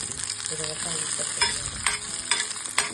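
Garlic and ginger fry for a homemade mutton curry, giving a steady broadband sizzle with a few sharper spatula scrapes and stirring clicks near the end. No voices are heard.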